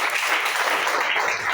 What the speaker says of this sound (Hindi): आप लोगों के लिए जोरदार तालियां होना चाहिए